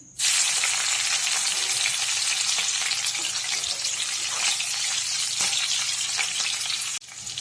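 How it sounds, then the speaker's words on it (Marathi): Green chillies hit hot oil in a kadhai for a tempering, setting off a loud, continuous sizzle and crackle that holds for about seven seconds before stopping suddenly, with no voices over it. "त्या कढईमध्ये आता मिरच्या टाकत आहे फोडणीसाठी"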